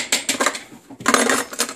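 A metal spoon scrapes and clinks inside a tin can, two short bursts of rattling scraping close by with no speech.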